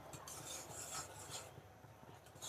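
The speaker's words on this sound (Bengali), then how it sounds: "মশলাগুলোকে খুব সুন্দর করে নেড়ে" Spices are stirred in a cooking pan with a utensil, giving soft, faint rasping scrapes in an uneven rhythm, with no voices.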